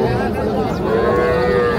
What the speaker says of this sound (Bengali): এগুলো কিন্তু যা দেখছি সবই বকনা বাচ্চা